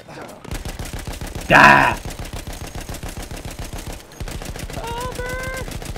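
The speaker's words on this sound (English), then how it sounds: "Oh no, we're being shot at." Rapid, evenly spaced gunfire aimed at the player in a video game, running almost throughout with a brief pause, while people talk and shout over it.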